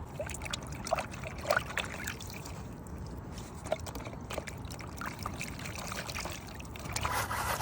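Dirty water sloshes and trickles close by as a truck part is scrubbed clean in it, with small splashes and drips scattered through a steady wet churn.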